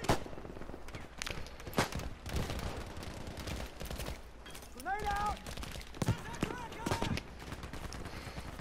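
Gunfire from the Battlefield V video game, with a dense run of sharp shots and bursts crackling through the clip amid rumbling battle noise, plus some whistling game effects around the middle.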